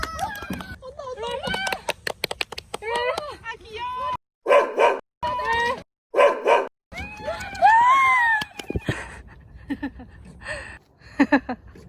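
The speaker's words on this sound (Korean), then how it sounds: "어 멍멍이다" A dog barks in short yips amid chatter from several people outdoors on a mountain hike, with the barks mixed among the voices at moderate distance.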